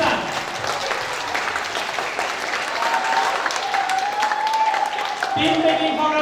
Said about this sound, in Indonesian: Coba kasih aplaus dulu tim musik kita